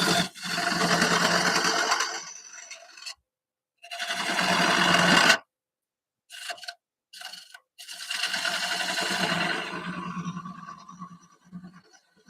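Wood lathe turning a live edge cherry bowl at about 700 RPM, with bursts of rough scraping gouge cuts a couple of seconds each, separated by silent pauses and short taps.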